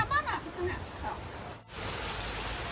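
Heavy rain falls on a quiet village in a soft, steady hiss, fairly faint, with a brief murmur of sound near the start.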